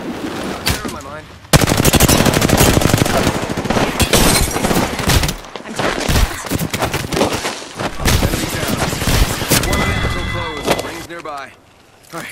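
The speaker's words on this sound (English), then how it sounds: "Shot fired! They're hitting me." Rapid video game gunfire, dense bursts of automatic shots crackling loudly almost without pause, with short gaps between volleys and game voice callouts spoken over the shooting.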